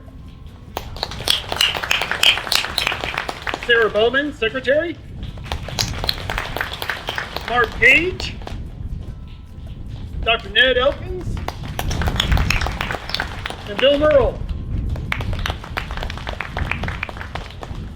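Audience members at a college groundbreaking ceremony clap in short bursts between spoken introductions of board members, the applause swelling briefly after each name and then giving way to the announcer's voice.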